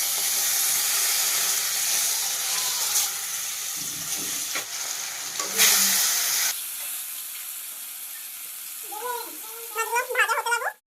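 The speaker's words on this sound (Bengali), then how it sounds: "মাছগুলো ভাজা বসিয়ে দিই" Fish for a Bengali lunch spits and sizzles loudly in hot oil in a pan, a dense frying hiss with brief stirring scrapes, easing off near the end as a cat meows close by.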